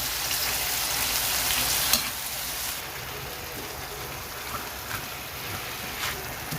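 Bitter gourd (ampalaya) frying in a pan as it is stirred: a steady, close hiss of sizzling oil with one sharp utensil clack and a few faint scrapes. No voices.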